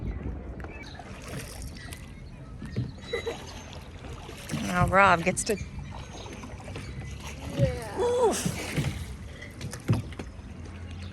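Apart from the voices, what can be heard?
rowing a dinghy back to the sailboat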